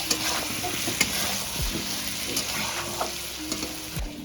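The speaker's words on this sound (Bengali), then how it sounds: "1 চামচ পরিমাণে লঙ্কার গুঁড়ো দিয়ে একটু ভালোভাবে কষিয়ে নেব।" Chili powder and spices stir-frying in fish oil for a Bengali pui shak dish with fish head, a continuous hiss of frying with a few scraping stirs of the utensil against the pan.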